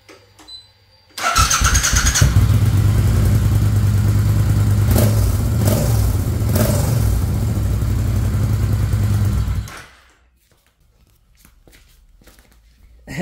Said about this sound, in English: this is what it sounds like just going through the silencer